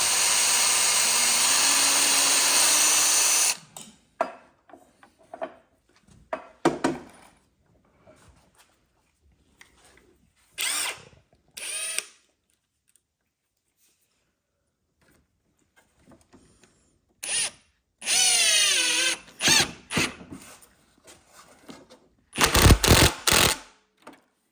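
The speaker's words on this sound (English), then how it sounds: "And then we're going to use these screws" A drill drives screws into wood while assembling a wooden mobile closet, with loud sustained whirring bursts of several seconds separated by quieter handling clatter and short tool pulses.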